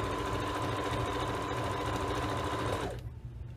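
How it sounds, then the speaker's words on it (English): Nearby sewing machine stitching a pillow seam forward and backward to lock it, a steady loud mechanical hum of rapid stitches that cuts off abruptly near the end. "we're going to go forward a couple stitches, back a couple of stitches to lock, and then straight down the side"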